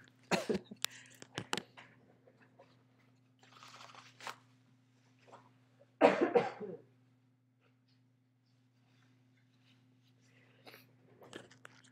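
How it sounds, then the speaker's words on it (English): A few sharp coughs close by, a couple early and a louder burst in the middle, separated by quiet and soft movement. "I'm about to cough, hold on just 1 second."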